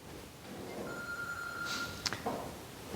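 A telephone rings in a room during a Bible seminar: one brief, thin electronic ring tone, fairly faint, followed by a couple of soft clicks.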